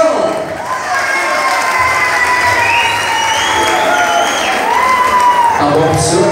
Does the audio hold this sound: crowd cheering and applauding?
yes